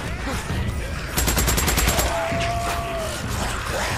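Rapid burst of gunfire from a weapon in the video game Days Gone, a quick string of about nine evenly spaced shots, loud and close, with faint in-game ambience before and after.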